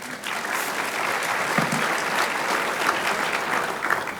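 An audience applauding the Beau Rivage staff at a 2025 state of the city presentation in Biloxi: a sustained, evenly loud roar of many hands clapping, with no voices over it.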